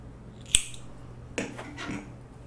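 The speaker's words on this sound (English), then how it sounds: "go ahead and chain 1 and cut your yarn" Scissors cut crochet yarn in one sharp close snip, followed by a softer snip and faint rustling.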